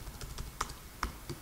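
Fingers type code on a computer keyboard in quiet, light, irregular taps, with a few sharper key clicks standing out.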